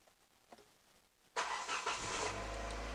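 A Hyundai i30 engine cranks and catches about a second and a half in after near-silence, then settles into a loud, steady idle close by.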